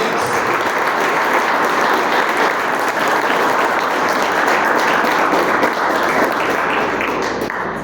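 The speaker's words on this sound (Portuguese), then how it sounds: "Você pode aplaudir esse Jesus." A church congregation applauding during a worship service: loud, dense, continuous clapping from a large crowd that holds steady throughout and eases off slightly at the very end.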